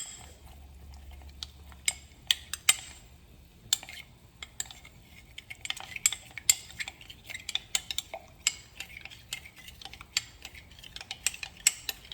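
A utensil clinks and scrapes against a bowl in quick irregular taps as a cornstarch and water slurry is stirred, close and fairly quiet.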